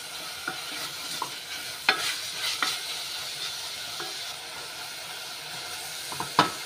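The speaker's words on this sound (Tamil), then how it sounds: "நல்ல கோல்டன் கலர் வர வரைக்கும் நல்லா ஃப்ரை பண்ணி விட்டுக்கோங்க" Finely chopped onions fry in hot oil for a mutton gravy, giving a steady sizzling hiss with occasional scrapes and stirring clinks, close and continuous with no talk.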